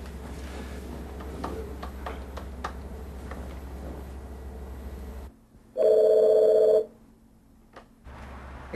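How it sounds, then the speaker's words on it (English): A telephone on a call rings once with a single loud, steady electronic ring burst about midway, preceded by quiet room sound and ticking clicks, then silence. "I'll call Greg"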